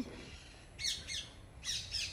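Parrots at a mini zoo in Howrah give a few short, harsh squawks in two pairs, fairly distant and faint against quiet background noise.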